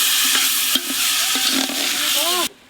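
Washed Gobindobhog rice and moong dal tipped into hot ghee in a cooking pot for khichuri, producing a loud, close sizzle with scraping and stirring that cuts off sharply near the end.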